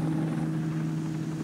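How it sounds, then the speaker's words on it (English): A news helicopter flying overhead makes a loud, steady rotor drone with a strong low hum that holds without a break; no voices. "Reportern Bob Turs sätt att rapportera från helikopter har ändrat mycket i den amerikanska televisionen"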